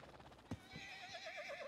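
A horse whinnies in a Red Dead roleplay game at a ranch stable, one long wavering neigh rising out of a soft thud, fairly loud and close, with no speech over it.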